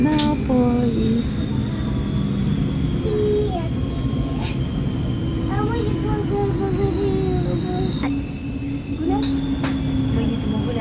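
Inside a moving train, a constant rolling rumble and rail noise fill the space, while tonal squeals and hums rise and fall and a few quiet voices come through.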